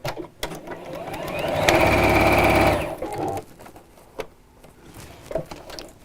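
A domestic sewing machine stitches through fabric in one short, steady run of about a second, close and clear, with quieter handling clicks before and after and no speech.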